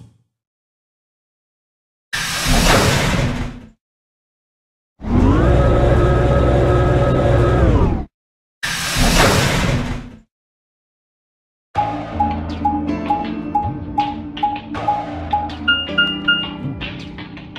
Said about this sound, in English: Chromatic doors closing.